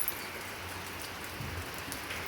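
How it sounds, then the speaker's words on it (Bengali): Rain falls steadily outside during several days of rain, a soft even patter and hiss that is fairly faint and continuous, with no one talking. "এই দেখো বৃষ্টি পড়ছে।"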